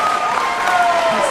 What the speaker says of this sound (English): A standing ovation from the crowd for both of those young women, which I just love to see.